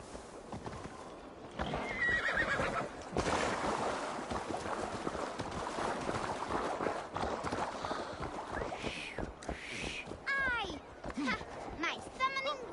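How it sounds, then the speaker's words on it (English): A horse in the video game Assassin's Creed Valhalla stamps and clip-clops under wind, then lets out several high, wavering neighs and whinnies near the end, loud and close, with speech heard earlier. "Your horse is a little unsettled, but safe."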